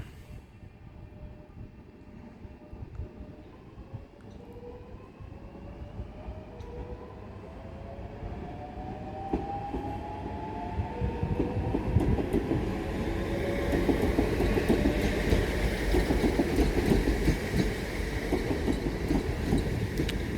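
Southeastern class 465 electric unit 465926 on the 1002 service to Bromley North passes through Grove Park on the South Eastern Main Line, a steady rumble swelling louder over twenty seconds with rising motor whine and wheel noise, no talk.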